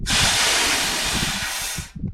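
Steady, loud gas hiss rushing from a hose for nearly two seconds, then cutting off abruptly with a brief low thud.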